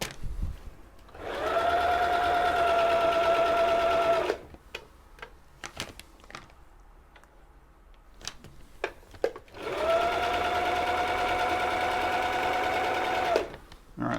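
An old Husqvarna sewing machine set to zigzag runs in two bursts of steady whirring motor hum and rapid needle clatter, close up, with a quiet pause of scattered clicks and handling between them.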